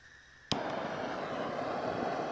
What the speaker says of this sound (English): Start your torch.